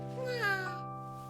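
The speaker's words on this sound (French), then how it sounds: "Un chat." A cat in the cartoon Caillou gives one drawn-out meow, heard close and clear with a wavering pitch over quiet background music, ending in a short higher sound.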